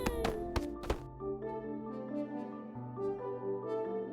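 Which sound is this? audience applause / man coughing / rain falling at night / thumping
thumping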